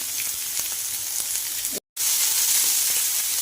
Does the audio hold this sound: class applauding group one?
no